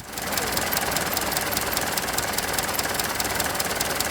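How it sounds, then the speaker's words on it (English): A 114-year-old car engine idling, a fast, even ticking and knocking patter with a steady mechanical hum, close and moderately quiet, no talk. "It's just a really sweet running engine."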